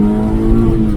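A lightweight Honda Civic EJ9 with a small high-revving engine gives a loud, close, sustained rev in a strong steady harmonic drone with slight waver across one second, under a brief murmur of voices.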